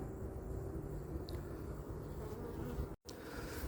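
Honeybees hum inside an open beehive, a steady close drone that fills the whole stretch, broken by one very brief dropout near the end.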